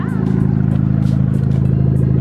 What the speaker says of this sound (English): the exhaust actually sounds pretty good